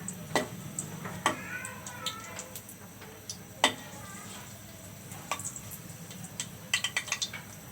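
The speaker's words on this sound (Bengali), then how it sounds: "হয়ে গেল শুকনো মরিচ ভাজানো" Dried red chillies fry in oil in a pan, a faint, low sizzle with scattered sharp crackles and pops, busier near the end.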